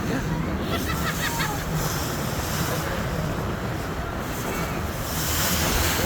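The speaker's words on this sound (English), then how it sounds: "I feel like the waves are bigger on this side." Steady rush of waves and churning water against the hull of the moving Washington Island car ferry in Wisconsin, with heavy wind noise buffeting the microphone throughout.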